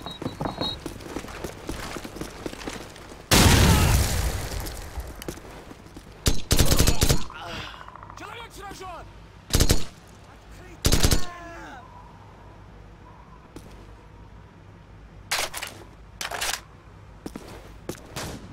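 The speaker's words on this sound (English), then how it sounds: "Give me some covering fire." Gunfire in Call of Duty 4: Modern Warfare, with loud, close bursts of automatic fire and scattered single shots between stretches of distant battle noise and shouted voices.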